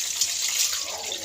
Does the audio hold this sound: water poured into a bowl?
yes